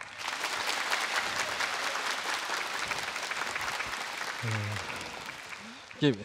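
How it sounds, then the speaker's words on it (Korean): Sustained applause from a school audience of students welcoming a master baker onto a Korean TV career-talk stage, dense and steady for several seconds before a presenter's voice breaks in near the end. "힘찬 박수로 청해 보시죠"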